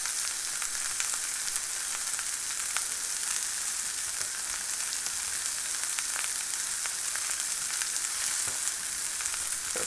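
Ground meat fries in a pan with a steady, crackling sizzle, spiked by occasional sharper pops and a light stir, and no talking.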